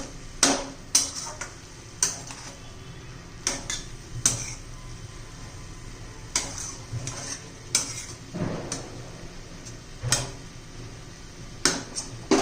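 A spoon stirs coriander into a cabbage and pea curry in a pan, giving a series of sharp metallic scrapes and clinks at irregular intervals. There is a faint sizzle underneath and nobody speaks.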